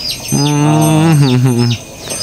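A large jumbo-class cow giving one long, loud, close moo with a steady low droning tone lasting over a second, with faint bird chirps in the background.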